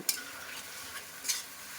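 A few quick spatula scrapes in a pan over a quiet, soft sizzle as Gobindobhog rice is added to frying masala and stirred.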